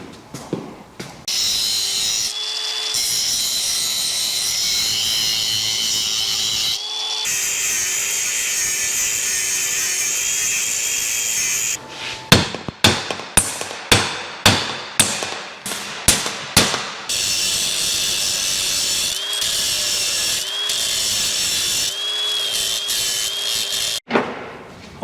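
Tools cutting and grinding on a Tri-5 Chevy driveshaft, a high-pitched whining cut-off wheel or grinder running in long stretches, broken up by a burst of sharp rapid metallic clanks and impacts partway through.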